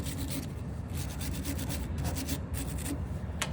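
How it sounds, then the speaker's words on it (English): A wire brush scrubs the threads and face of a polyurea pump manifold in quick, steady strokes, a continuous close, moderately loud scratchy rasp with no pauses and no voices. "You can take a wire brush to it like this."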